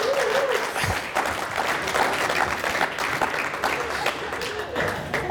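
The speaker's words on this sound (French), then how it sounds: "je vous prie d'applaudir" An audience applauds the Cameroonian army at a public gathering, steady dense clapping filling the whole stretch at moderate loudness, with a few voices faintly mixed in.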